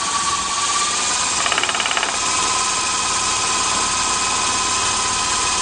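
A Honey Bee FP model helicopter's small glow engine starting at about three-quarter throttle, a loud steady buzzing drone with a brief rattling burst near the start, close by and with no talk.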